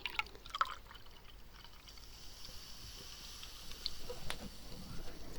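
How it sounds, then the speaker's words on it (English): A freshly poured canned drink fizzes in a glass nearby, a faint, continuous crackle of popping bubbles with a few sharper ticks early on, heard alone without speech. "And there'll be some fizzing."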